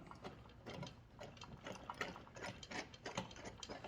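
A rapid ratcheting clicking works steadily for a few seconds as an axle bolt on a mini bike is unthreaded, the metallic pawl-like ticks close and moderately quiet.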